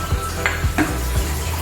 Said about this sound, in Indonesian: Kita campur semuanya sambil kita aduk ya